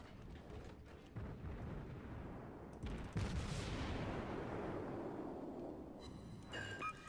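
Naval guns of a Tier 4 light cruiser, the Kuma, fire in World of Warships at close range, booming salvos that rumble heavily and overlap, with a layer of game sound effects near the end.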